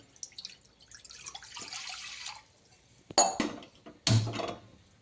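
About 300 ml of water splashes and trickles into a kadai on a stove with a couple of sharp clinks, a near pouring sound with brief bursts, no speech.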